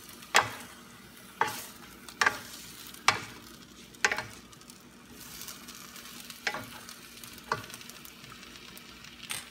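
A utensil stirs shrimp lo mein in a frying pan, making a series of sharp scraping clanks spaced a second or so apart over a quiet, low sizzle.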